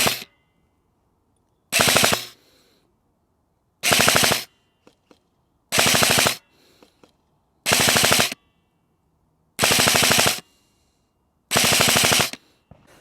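Seven short full-auto bursts from a Cyma CM.009E XM177 airsoft replica rifle firing 0.25 gram BBs outdoors, each a loud rapid rattle lasting about half a second, evenly spaced with silent gaps between.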